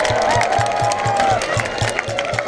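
Applause and cheering from the crowd at a safari park sea lion show, a steady mass of claps and voices with a regular low thump underneath, while someone talks over it.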